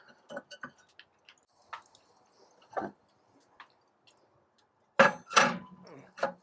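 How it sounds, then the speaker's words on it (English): Heat deflector racks going into a Primo grill: a few sparse, light clicks and knocks, then a short cluster of louder metallic clanks near the end as the pieces settle into place. "we're going to go ahead and place those heat deflector racks"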